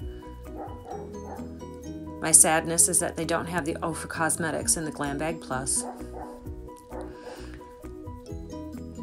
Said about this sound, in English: I apologize again for my dog.